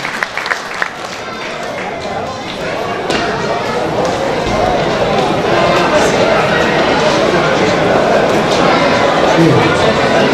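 A crowd at a traditional iftar festival applauds board members, with dense, steady clapping that swells in volume and holds strong for the full length, loud and close.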